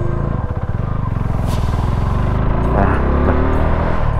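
Suzuki V-Strom 250 manual motorcycle engine running on a mountain ride, a loud, steady, rough mechanical rumble with rapid pulsing throughout and some wind rush, no talking.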